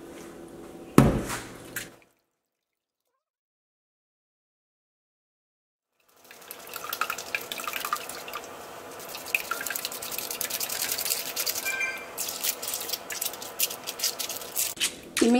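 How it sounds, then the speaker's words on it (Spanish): Water is poured through a strainer holding tamarind pulp, with dripping and splashing. A brief splash comes first, then a few seconds of silence, then a sustained stream of trickling and dripping, close and moderately loud. "lo que voy a hacer, agua y volver a pasar por un colador"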